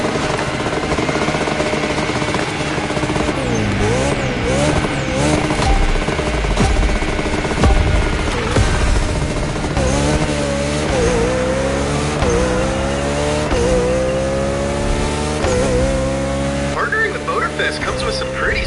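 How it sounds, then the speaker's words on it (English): A Koenigsegg Jesko races in The Crew Motorfest, its loud engine roaring and rising and falling through gear shifts with occasional tire squeal, steady and close for the whole stretch, with voices talking over it. "Koenigsegg Jesko, bold choice."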